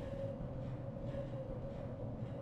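A subway train in the Half-Life game (Sven Co-op) rumbles along with a steady low drone and a sustained mid-pitched hum, continuous and fairly quiet, with no talking.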